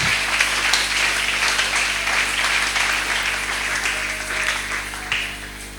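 A church congregation applauding, dense sustained clapping that carries on steadily for several seconds and eases slightly toward the end, with no one speaking over it.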